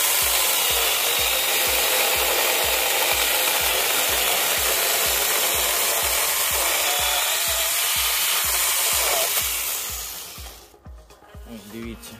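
Mini cordless chainsaw cutting through a garden branch, a loud steady high whine with a rhythmic pulsing chatter that runs continuously, then cuts off abruptly as the branch parts and the motor winds down.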